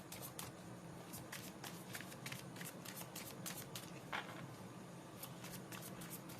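Tarot cards are shuffled at a quiet, steady pace, a run of soft crisp riffles and flicks repeating through the stretch over a low background hiss, with no voices.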